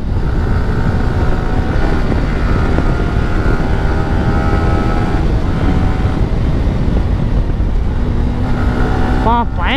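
A KTM RC 200 motorcycle engine roars steadily at speed during a ride, loud and close with strong wind rush, holding a constant drone and rising in pitch briefly at the end.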